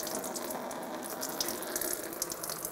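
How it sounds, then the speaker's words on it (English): Coolant running steadily out of the radiator of a 2000-2006 Toyota Tundra 4.7L V8 into a bucket, a continuous close-up watery splashing and trickling with no pauses. "and start to drain the coolant"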